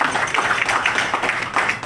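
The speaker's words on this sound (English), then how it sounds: "So big round of applause to my friend Peter Ramsaroop, please." Audience applause for a former member of parliament receiving an honour at an award event, with steady, dense clapping from a crowd running throughout without a break.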